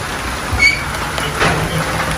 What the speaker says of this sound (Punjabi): ਬਾਕੀ ਜੀ ਬਾਰਿਸ਼ ਸਟਾਰਟ ਹੋ ਗਈ ਆ ਕਾਫੀ